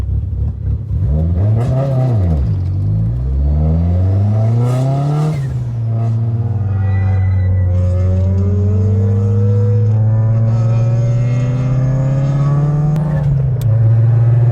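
A 2006 Mitsubishi Lancer Evo 9 GT wagon, manual, making 469 horsepower, revs loudly up close: a quick blip and fall, then a long sustained rise in engine pitch that holds high before dropping off.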